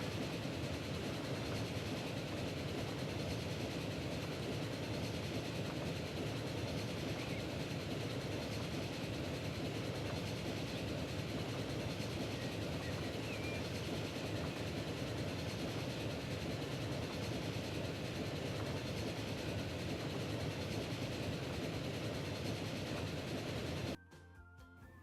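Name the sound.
express train passing in Transport Fever video game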